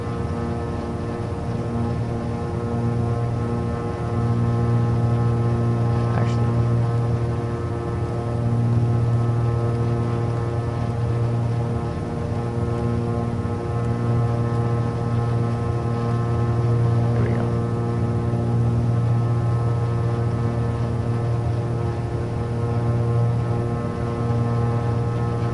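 The right piston engine of a Beechcraft Baron 58P twin runs in Microsoft Flight Simulator, a steady, even drone holding loud and unchanging throughout with no talk.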